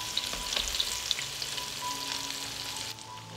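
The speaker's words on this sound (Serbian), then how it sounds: "I pripremljene tikvice spuštamo na ulje i pržimo po 3 minuta sa obe strane." Zucchini slices sizzle in hot oil in a pan, a close, steady crackling hiss with small spatters and pops, continuous and unaccompanied by speech.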